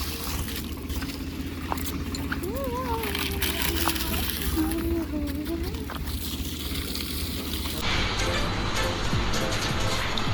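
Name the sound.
water flowing onto coconut plants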